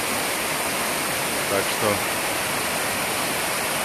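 Waterfalls in the Agara river gorge in Adjara give off a constant loud rushing roar, close and unbroken, while someone speaks briefly over the water.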